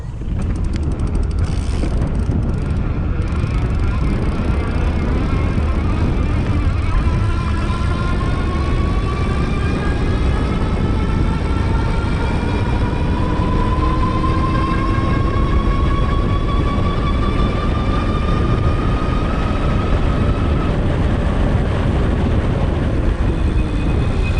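Pedego Element e-bike running at its 20 mph throttle top speed, a steady loud rush of wind buffeting over a rising electric motor whine that climbs slowly in pitch throughout.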